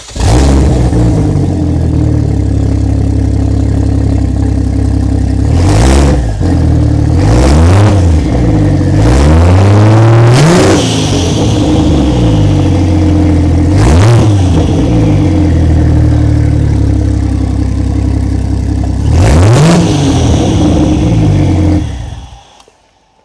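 A modified Ford Barra straight-six, running on the ground out of the car, fires up and idles loudly up close, then is blipped through several sharp revs that rise and fall before it cuts off abruptly.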